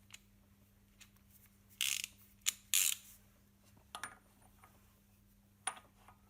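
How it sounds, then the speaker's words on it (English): Camshaft of a Mercedes M271.9 engine being turned slowly by hand, giving sparse mechanical clicks and a few short ratcheting bursts amid quiet pauses, close and faint. "By rotating the camshaft carefully, it is possible to see and feel if there is abnormal wear in the valve adjusters."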